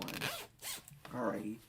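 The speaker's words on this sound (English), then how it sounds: "Actually, I'm gonna zip this up." A jacket zipper pulled up in a few quick rasping strokes, close and loud, with someone speaking briefly around the zipping.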